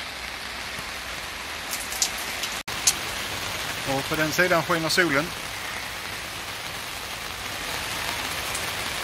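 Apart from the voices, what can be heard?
rain falling during a thunderstorm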